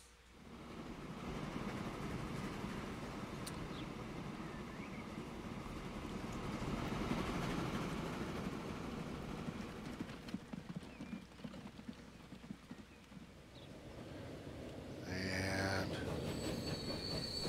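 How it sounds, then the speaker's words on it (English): Freight train in the video game Transport Fever rolls along continuously with a broad rumbling wheel noise and some squeal, swelling and easing over the stretch, while a voice briefly speaks. "So our second tool train is heading up."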